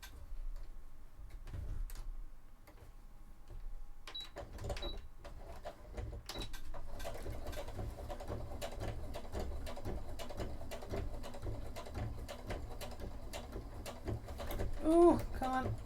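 A sewing machine stitches cosplay gloves in quick, uneven runs of ticking clatter that start and stop, then settle into a longer continuous stretch, close and moderately loud.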